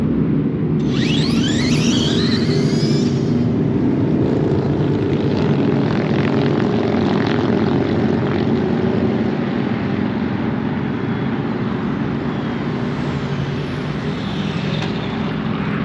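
A drag racing car launches on a dry tire at a test-and-tune session, a loud, continuous roaring engine with a steady droning rumble that holds for the whole run, heard from the car and without voices.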